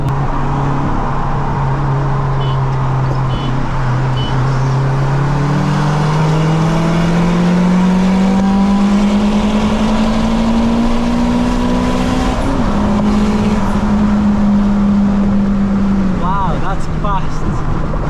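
Tuned 500 bhp Honda Civic FN2 Type R engine racing a Ford Focus ST, droning loudly and rising steadily in pitch under hard acceleration with a brief gear change near the end, as a voice talks over it.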